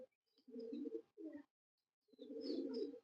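Crossbred pigeons cooing softly nearby, giving two separate low throaty coos with a brief pause between them.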